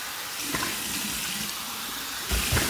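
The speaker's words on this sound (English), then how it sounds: "Here's my cold water rinse." Cold tap water runs steadily into a sink for a face rinse after shaving, a continuous broadband splash that swells louder near the end as hands move through the stream.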